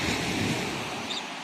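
Sea waves breaking on the shore at Alexandria make a steady, loud roar of surf with wind buffeting the microphone, heard alone with no voices.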